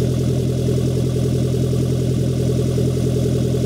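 A Daihatsu Xenia engine idles steadily just after a cold start, fitted with a new exhaust header, a close, even low rumble with a fast regular pulse and no talk.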